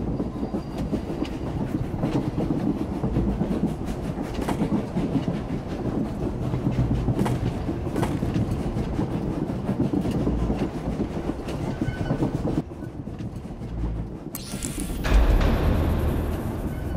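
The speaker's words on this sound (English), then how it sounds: "Intel says they're on an Umbaran supply train headed for the capital city." A supply train rolling along its rails in a Star Wars animated battle scene, a continuous loud rumble with rhythmic clickety-clack, shifting to a sharper hissing burst near the end.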